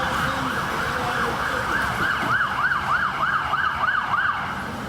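Wailing emergency sirens rising and falling in a steady cycle over road noise, fairly close and continuous throughout.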